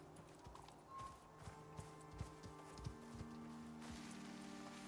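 Horse hooves clip-clop on the ground in the Icarus survival video game, a horse and bison being led along, with irregular soft thuds over a steady ambient wash.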